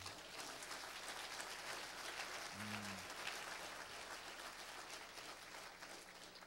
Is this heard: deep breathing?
no